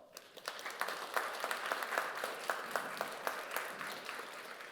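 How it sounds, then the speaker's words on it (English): A seated conference audience gives faint, distant applause for Norway's foreign minister at an Atlantic Committee event, the clapping steady and thin throughout. "Please give her an applaud"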